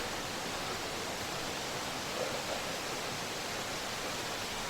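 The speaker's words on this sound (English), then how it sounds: "I'm sure you can hear all the noise. We're just getting to the waterfall now." A waterfall on a forest trail in Brazil, a dense, constant roar of rushing water that fills the whole clip evenly, close and loud with no other sounds.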